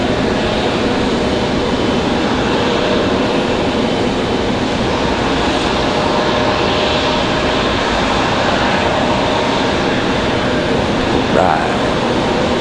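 A jet airliner rumbles steadily at Raleigh-Durham International airport, a broad continuous engine roar that holds loud across the whole stretch, with someone talking over it.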